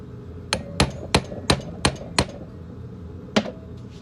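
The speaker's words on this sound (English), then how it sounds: "impact driver again" An impact driver working screws on a Yamaha engine, delivering six sharp, loud hammering bursts in quick succession and then one more after a pause.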